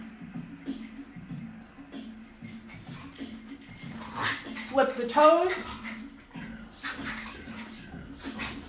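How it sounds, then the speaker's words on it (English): Dogs whine and whimper indoors during a yoga session, with thin high whines rising briefly in the middle of the clip while an instructor keeps talking over them. "And of course my dogs have to get into it now."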